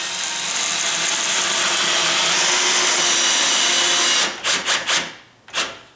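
A power drill driving a screw whirs steadily for several seconds on high speed, then stops and gives a few short, slower bursts on low speed.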